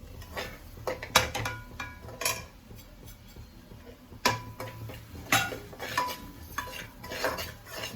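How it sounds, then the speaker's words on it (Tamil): Chili, coriander and turmeric powders with garam masala are stirred and sautéed in oil in a pan, a spoon clinking and scraping against metal in irregular strokes over a faint sizzle, close up with no talk. "இதில் நல்லா வதக்கிக்கலாம்."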